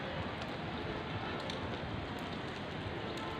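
Rain pours on a rainy day by buildings in Nabinagar, a dense, steady hiss of drops with no pauses, loud and close throughout.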